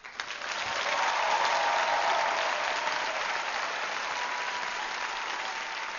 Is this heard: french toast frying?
no